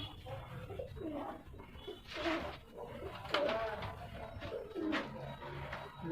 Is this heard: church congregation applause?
no